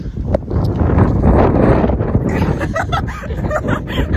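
Wind buffets the microphone in gusty blasts, steady and loud throughout with rustling bursts, outdoors while someone heads home.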